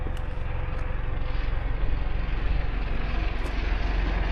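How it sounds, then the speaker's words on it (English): Helicopter flying over Beeston Castle, a hilltop ruin, heard as a steady, continuous low rotor and engine drone that stays fairly loud throughout with no talking. "There's a helicopter."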